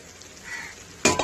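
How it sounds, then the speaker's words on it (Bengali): Taro curry bubbling in a cooking pot, a low steady simmer that swells slightly, then a sudden louder burst of sizzling or pot clatter near the end. "এই তো এখানে কচুর তরকারিটা ফুটছে,"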